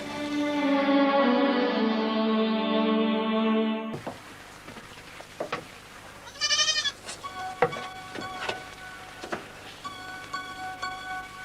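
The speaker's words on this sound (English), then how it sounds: "It's a goat." Goat bleating loudly and close with a long wavering cry, then quieter scattered bleats and thumps with some echo and no talk.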